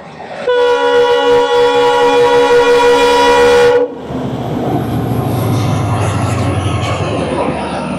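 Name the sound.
passing train, likely 12424 Dibrugarh Rajdhani Express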